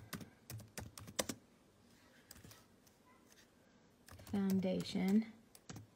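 Computer keyboard typing, sharp clicks in irregular clusters, close and moderately quiet, with a short stretch of a person speaking partway through.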